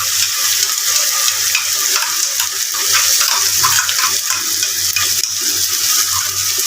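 Water from a rinsed mixer jar is poured into a pan of frying tomato paste for a Bengali pabda fish chorchori, giving a close, steady hissing sizzle with bubbling and stirring throughout.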